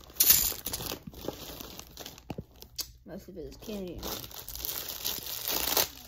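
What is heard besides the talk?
plastic bag crinkling while being opened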